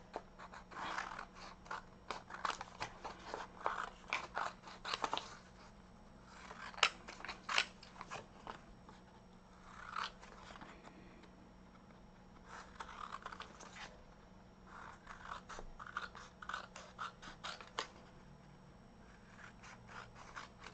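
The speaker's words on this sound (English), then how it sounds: "And then you're going to trim around it." Scissors snip around a paper tag, crafting for a junk journal: repeated clustered cuts in irregular bursts with short pauses, close and fairly quiet, no voices.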